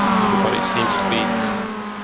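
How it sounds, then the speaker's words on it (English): A train of Mazda MX5 race cars at Watkins Glen in a racing video game, close engine whine with pitch sweeps and a brief whoosh of cars passing, loud and continuous over about two seconds. "It's quite the train of cars we got going on here."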